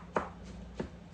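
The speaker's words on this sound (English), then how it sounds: "I'm chopping them up pretty good." Two sharp knife chops strike a cutting board while cutting peaches into small pieces, spaced apart, fairly quiet against a faint background hum.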